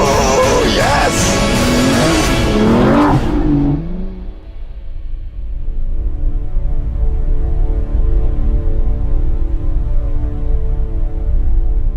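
An Aston Martin V12 Vantage S with a 7-speed gearbox drones at a steady pitch, a continuous, fairly loud engine hum from inside the car. Talk is heard over it at first, then the engine sound continues alone.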